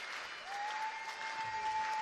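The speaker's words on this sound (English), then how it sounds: "clapping both the English and Maltese team off" Teams and spectators applaud at a men's water polo championship between England and Malta, a steady wash of crowd clapping with a sustained tone running through it.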